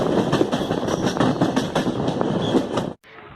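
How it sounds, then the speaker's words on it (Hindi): Rajya Rani Express rolling away from a station, with rhythmic clickety-clack of wheels over rail joints and rumbling carriages at close range, cutting off abruptly near the end. "ट्रेन फिलहाल खुल चुकी है"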